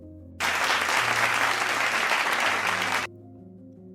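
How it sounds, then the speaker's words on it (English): An audience applauds in encouragement as a guest speaker playfully challenges someone to take a test, a dense, steady burst of many hands clapping that rises abruptly, holds for about three seconds, then stops sharply over quiet background music. "the audience applauds in encouragement"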